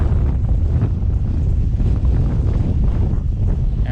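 Strong wind gusts roar across an open beach on Barren Island's Dead Horse Bay shore, a steady, loud buffeting rumble pressing on the microphone throughout with no voices.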